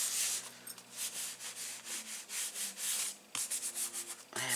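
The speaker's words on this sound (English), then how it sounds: "So turn over and just give it a good rub." Hands rubbing glued patterned paper flat onto a handmade card, a series of brisk papery swishes in uneven strokes with a short pause partway through, close and alone.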